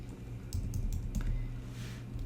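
Quick bursts of typing on a computer keyboard, a handful of close, soft key clicks in an irregular rhythm over a faint background hum.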